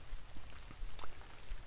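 Rain falling in the woods, soft scattered drops pattering on leaves and the ground at low level, with a faint steady wash beneath and no voices.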